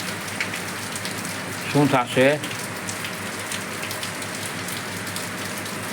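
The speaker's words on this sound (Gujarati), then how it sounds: "અત્યારે વરસાદ વરસે છે" Steady rain falls on a village in Gujarat at night during a spell of unseasonal rain, a continuous even hiss, with someone briefly speaking over it.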